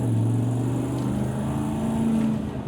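2010 Ford F150 pickup truck accelerating hard, a loud sustained engine drone with rising tonal pitch that stays strong and steady throughout, no talking.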